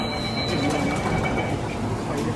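A train at Sabarmati railway station in Ahmedabad gives a steady close rumble of rolling wagons, with thin metallic wheel squeals drawn out above it and no talking.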